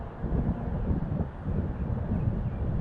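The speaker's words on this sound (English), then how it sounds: "it's windy out here" Steady low rumbling wind buffets a microphone outdoors, a dense roar that swells and dips slightly without pause for the whole stretch.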